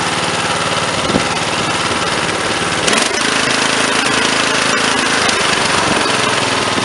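A Briggs & Stratton small engine runs steadily on a rusty carburetor fitted with new fuel inlets, a loud, close, continuous mechanical drone with a brief throttle change partway through.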